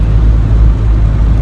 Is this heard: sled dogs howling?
no